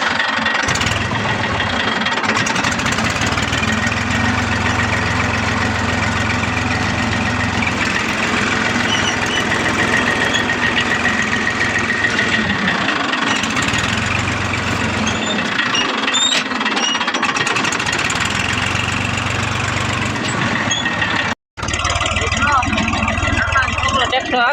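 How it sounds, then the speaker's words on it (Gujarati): A tractor engine runs loud and close for the whole stretch, a rough, continuous chugging drone that swells in places and drops out for a moment near the end. "મિત્રો હવે તમારો ભાઈ ચલાવશે ટ્રેક્ટર"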